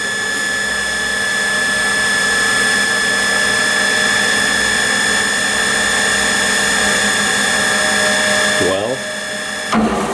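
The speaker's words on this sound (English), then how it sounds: "doing a cycle, just so we can listen to the spindle" Eldorado M60 gun drill with counter-rotation running a cycle, a loud steady mechanical whine with strong tonal hum and whirring gears throughout, then winding down near the end.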